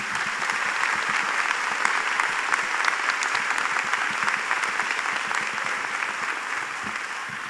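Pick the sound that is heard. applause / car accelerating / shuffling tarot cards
applause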